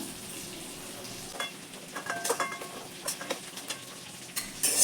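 Prawns fry lightly in oil in a pan for a Bengali banana-flower curry, a steady soft sizzle with scattered scrapes and clinks of a spatula, fairly faint throughout.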